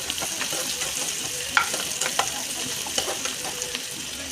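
Green chillies and onions frying in a pan, a loud continuous sizzle close up with scraping stirs and light clinks of a spoon against the pan throughout.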